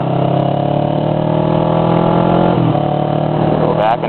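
A motorcycle engine held at a steady, loud drone during corner practice, with a slight dip and recovery as the throttle is eased near the middle and a faint change at the end.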